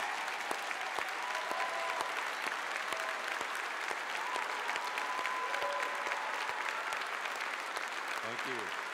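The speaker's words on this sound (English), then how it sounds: "if you and your spouse would please stand so we can honor you today with a round of applause" Church congregation applauding on Memorial Weekend to honor military veterans and their spouses, a long, even round of clapping with occasional sharper claps and brief murmured voices toward the end.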